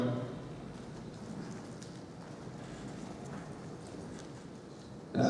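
A horse's hooves clip-clop in a steady rhythm on the ground at a moderate distance, keeping on throughout.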